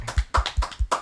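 Hand clapping, six quick sharp claps in an even rhythm over about a second, close and fairly loud, with no talking.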